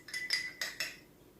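A spoon clinks against a glass of water while salt is stirred in, four quick, light taps close by, then quiet.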